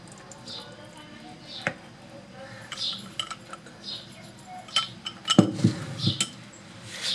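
Eggless chocolate cake batter stirred by hand in a bowl as oil, vinegar and liquid are mixed in: a spoon clinks and taps against the bowl in scattered bursts. Soft scraping sits underneath, and a few sharper knocks come near the end.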